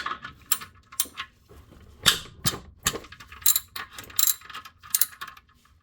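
A ratchet wrench takes out 12 mm bolts on a 2008 Acura MDX engine, sharp clicking bursts in irregular short runs with pauses between strokes, close and alone.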